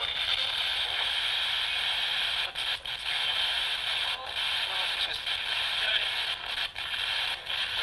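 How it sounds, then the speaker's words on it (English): Ghost-hunting radio scanning device sweeping stations, giving a continuous loud hiss of white noise broken by brief clicks and dropouts as it jumps between channels, with no talk over it. "You're going to hear radio station snippets, white noise."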